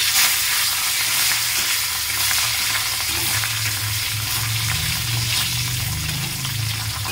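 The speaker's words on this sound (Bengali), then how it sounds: "এরপরে এক এক করে মাছগুলো ভেজে নেব।" Belly pieces of fish sliding one by one into hot oil, frying with a dense, continuous sizzle and occasional crackles and spatters, loud and close, with no one talking.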